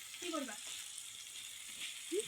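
Pieces of fish, with turmeric, frying in a hot pan: a steady, soft sizzle that runs throughout, with faint, brief voice sounds near the start and the end.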